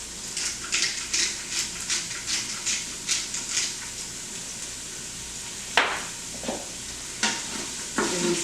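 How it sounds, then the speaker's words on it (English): Seasoned beef in soy sauce and low-sodium beef stock is stirred and tossed in an Instant Pot, a run of rhythmic scraping strokes over a soft sizzle, with a few sharper knocks near the end. "It needs a good toss."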